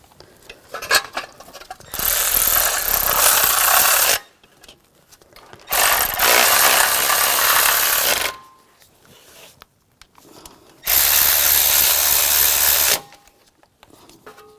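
A power tool tightens bolts on the turbocharger and exhaust manifold of a 2004-2009 Audi A4 Quattro 2.0L in three loud, sustained bursts of about two seconds each, separated by quieter gaps with small clicks and handling noises.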